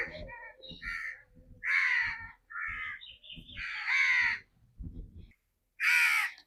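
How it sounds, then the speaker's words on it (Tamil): Many crows caw loudly and repeatedly at a temple in Tiruchirappalli district, harsh overlapping calls coming in bursts, some near and some farther off. "இங்கே பாருங்கள், காக்காயெல்லாம் நிறையா வருதுங்க."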